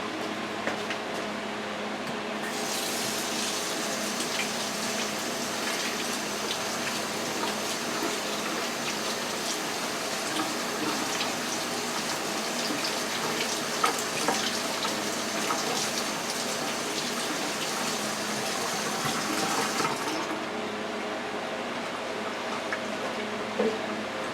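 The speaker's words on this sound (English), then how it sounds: "I'm gonna wash my hands" Tap water runs steadily into a sink while hands are washed, a continuous close splashing rush lasting about twenty seconds, starting and stopping abruptly, with no talk.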